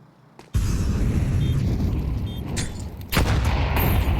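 A grenade blast in a Counter-Strike match on the Overpass map, heard as a loud booming burst that starts abruptly and rumbles on, with a second sharp boom near the end amid game noise.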